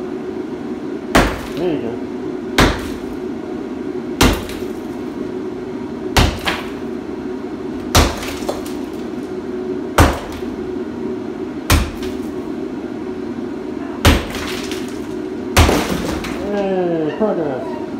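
Hammer blows strike a brick fireplace being torn down in a family room, about eight sharp, evenly spaced impacts landing every two seconds or so over a steady background hum, with people talking in between.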